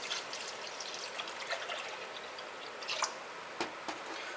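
Milk poured from close range into a pot of slow-cooking beef tips for gravy, a soft continuous trickle with a few brief splashy drips, heard alone.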